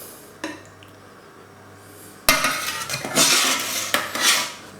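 Metal utensils clink and scrape against a dish while honey chicken in tarragon sauce is served, starting with a faint tap, then a sudden loud clatter followed by wet scraping and clinks, with no talking.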